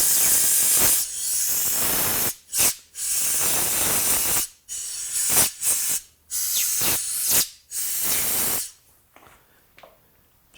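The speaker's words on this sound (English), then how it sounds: "we need a little air nozzle to blow out the Phillips head" Compressed-air nozzle blasting grit out of a Phillips-head screw recess after cutting on a WAZER water jet, heard as loud, close hissing bursts of varying length separated by short gaps, ending in quieter hissing taps.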